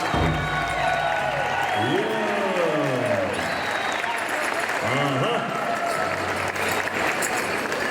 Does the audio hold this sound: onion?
no